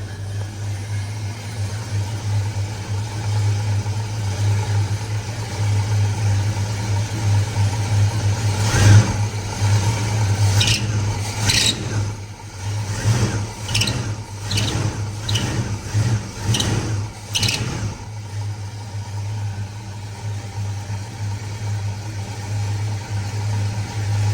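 A 1979 Pontiac Trans Am engine idles steadily at close range, a constant low hum with a series of brief sharp bursts in the middle, then a return to the even drone.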